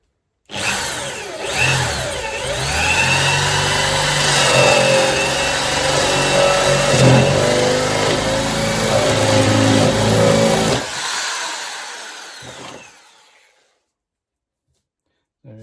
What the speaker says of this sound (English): It would help if I turned the drill on